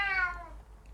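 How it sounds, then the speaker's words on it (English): A pet cat gives a single clear, rising-then-falling meow close by in a quiet room, fading into low background hum. "that's my cat. I'm sure you can hear him in the background."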